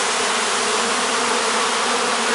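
Honeybees shaken off a hive frame fill the air with a loud, dense, continuous buzz that holds steady throughout, close and with no talking.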